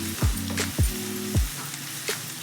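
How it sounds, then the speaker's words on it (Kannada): Vermicelli frying in oil in a pan for shavige upma, a steady close sizzle broken by a few sharp stirring scrapes and clanks. "ಇನ್ನೊಂದು ಚೂರು ಫ್ರೈ ಮಾಡಿಕೊಂಡ್ರೆ ಸಾಕು"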